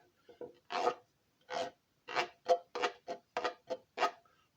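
A handmade all-wood washboard played by scraping, giving about ten separate rasping strokes in a loose rhythm, close and clear with nothing else heard.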